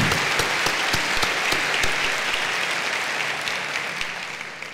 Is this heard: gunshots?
no